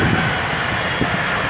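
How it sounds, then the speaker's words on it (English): Jet airliner lifting off on an extradition flight late on a Friday afternoon, a steady broad engine roar that holds at a constant loud level throughout, with no voices. "Liftoff shortly after 4:30 Friday afternoon"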